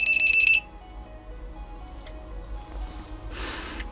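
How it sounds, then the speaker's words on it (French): A small buzzer sounds as a low-voltage alarm for a LiPo battery on an electric airsoft speedloader: one short shrill beeping burst at the start, then quiet background noise and a brief hiss near the end. "vous pouvez mettre un petit buzzer"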